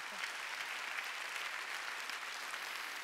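A church congregation at a Sunday worship service applauds in a dense, steady wash of many hands clapping, even in loudness throughout and heard without speech.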